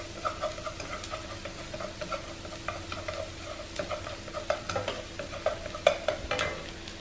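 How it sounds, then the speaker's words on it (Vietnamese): A wooden spoon stirs fried corn with salted egg in a pan, giving a steady sizzle broken by repeated scraping and tossing strokes, close and moderately loud. "Mình dùng cái muỗng mà bằng gỗ này để mình đảo ha"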